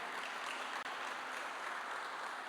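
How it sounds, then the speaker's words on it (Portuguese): Church congregation applauding during a Portuguese-language sermon, an even, moderately quiet roar of clapping that continues unbroken apart from one brief dip. "Aplauda Jesus."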